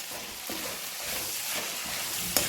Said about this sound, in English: Now I am going to stir it thoroughly and let us cook it for another 5 minutes